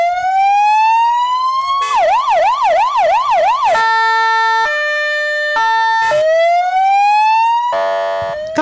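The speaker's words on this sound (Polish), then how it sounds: "Każdy z uczniów mógł również usłyszeć, jak działa syrena zamontowana na każdym z motocykli" A loud, close police motorcycle siren cycling through rising wails, rapid yelps and steady electronic tones, alone and without any talking.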